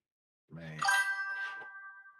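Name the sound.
message notification ringing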